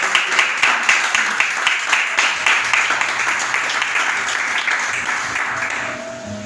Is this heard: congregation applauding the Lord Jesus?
yes